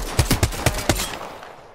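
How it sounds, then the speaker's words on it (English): A rapid burst of about five sharp gunshots in the video game Apex Legends, evenly spaced, followed by a fading echo tail; loud and close, with no talking. "let's run towards the gunfire"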